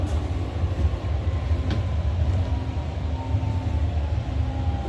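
A nearly empty REM light metro train running across Laval, its steady low rumble and rolling hum filling the car, with a faint tonal whine and no talk.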